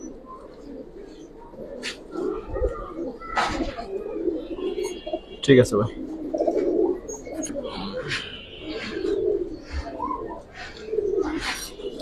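Pure old-breed pigeons cooing in a pigeon market in soft repeated throaty bursts, with people talking nearby and a brief sharp clatter midway.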